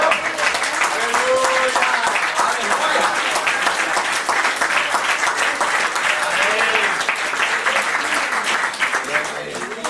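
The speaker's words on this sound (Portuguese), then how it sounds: "Pode aplaudir o Senhor." A church congregation applauds in a sustained, dense burst of clapping that lasts the whole stretch at even loudness.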